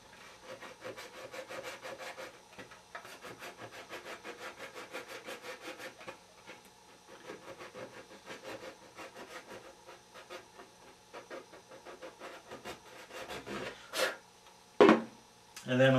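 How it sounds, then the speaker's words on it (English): Sandpaper rubbed across the painted surface of a helmet to dull its gloss, a quiet rhythmic back-and-forth scratching in short repeated strokes, close up, with a few louder knocks near the end. "Now I'm going to sand up to the edge of that line, just removing some of the gloss so the two paint surfaces stick together better."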